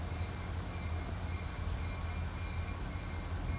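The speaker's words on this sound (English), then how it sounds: "That locomotive, you still see TTI in the front." A locomotive rolling along a railroad track, a steady low rumble with faint metallic hum, moderately distant and without talk.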